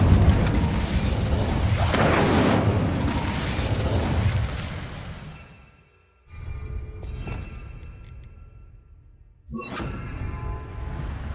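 Incendio fire spell cast in Hogwarts Legacy: a loud, sustained roaring burst of flame with booming rumble that fades out over several seconds, then further whooshing bursts of magical fire crackle back in.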